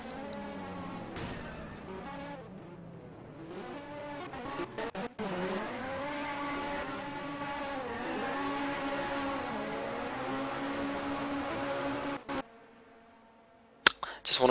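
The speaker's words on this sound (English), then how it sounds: "we see a few people doing donuts to settle the nerves for the race" Touring race cars doing donuts on a track at a Birmingham sim-racing round give a sustained, droning engine whine with wavering pitch and revving as they spin, loud and continuous, with brief cutouts and no talking.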